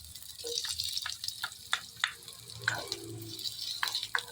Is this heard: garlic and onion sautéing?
yes